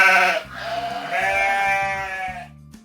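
A sheep bleats in three close, loud, wavering cries in quick succession, each a nasal tonal call separated by brief pauses, heard alone with no talk.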